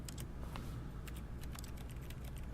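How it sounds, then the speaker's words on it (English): Quiet keystrokes as a code is typed in The Stanley Parable video game, an irregular run of soft clicks over a low steady background hum. "Someone's typing."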